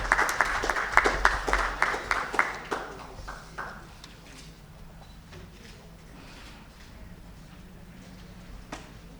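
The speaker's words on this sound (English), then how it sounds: "Audience, can we have a huge round of applause for all of their efforts that they have put in the last year." Audience applause at a corporate CSR awards ceremony in India, starting as a burst of sharp claps up close and thinning out to sparse, scattered claps within a few seconds.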